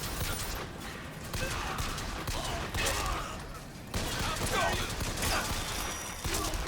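Rapid video game gunfire crackles in dense bursts throughout, a steady loud barrage with brief lulls and scattered speech-like voices mixed in.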